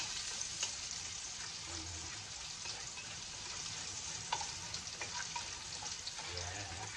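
Garlic frying in a pan makes a steady, close sizzle with crackling and occasional stirring scrapes. No one speaks over it.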